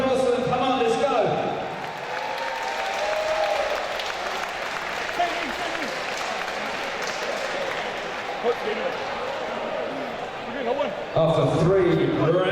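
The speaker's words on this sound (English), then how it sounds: "a big round of applause for them" Live audience at a fight event applauding and cheering the two fighters after three rounds of action, a broad sustained wash of clapping and crowd noise that carries on for most of the stretch, with a voice over the crowd at the start and end.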